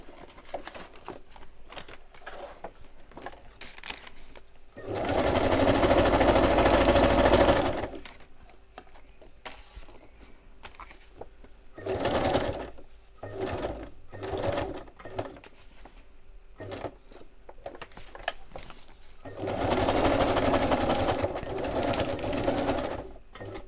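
A sewing machine runs in several bursts, loud whirring stretches of a few seconds each, separated by quieter gaps with small clicks and handling noises.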